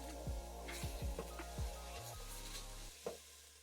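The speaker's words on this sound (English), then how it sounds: "We're just gonna saute these till the onions become translucent" Onions and jalapeños sauté in a pot for chicken tortilla soup, giving a soft, steady sizzle with several knocks and scrapes from stirring, quiet and close with no talking.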